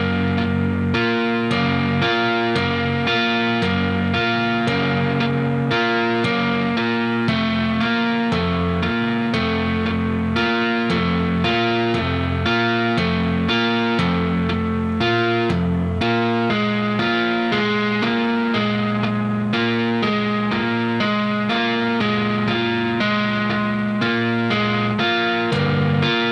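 A distorted electric guitar with chorus-like effects plays the driving riff intro of a song, in 9/4 on an eighth-note grid, as a dense, steady, loud chugging pattern with a full band sound throughout.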